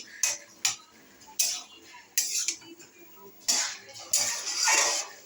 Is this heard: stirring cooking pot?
yes